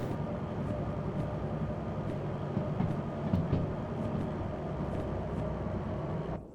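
A train running in the video game Derail Valley, with a continuous rumbling roll and faint rhythmic clicks of the wheels, steady and moderately distant, and no speech, before it fades at the end.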